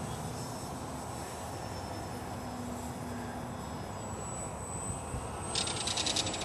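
A Park Zone F4U Corsair RC model warbird flies a loop, its electric motor a steady, distant whine over a broad airy hiss that swells slightly near the end.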